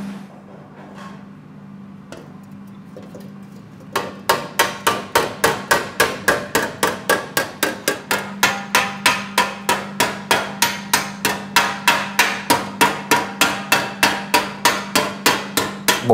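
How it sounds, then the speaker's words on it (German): A hammer forges glowing orange-hot steel for armor, starting with a few sparse taps, then settling into a fast, regular series of sharp, ringing metallic blows close by. "Man muss die Hammerführung so fein wählen"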